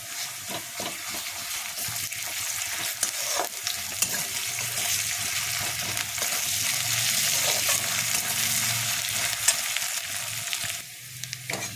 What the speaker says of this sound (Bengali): এই দেখুন আদা রসুনটা ভাজা ভাজা হয়ে গেছে।